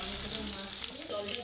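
Chicken frying with spice paste in a pan for chilli chicken, a soft continuous sizzle heard close and low in level, brief and without talk.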